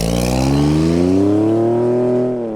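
Ford Bronco race prototype pulling up, a loud close engine exhaust note with a rising, rumbling tone that holds and then eases off at the end.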